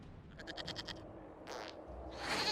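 A goat in a video game lets out a short, wavering, nasal bleat, followed by a couple of softer breathy cries against a faint background.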